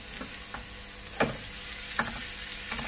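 Onion and capsicum frying in a pan for bread pizza give a faint, steady sizzle, broken by a few soft stirring scrapes and clicks spaced about a second apart.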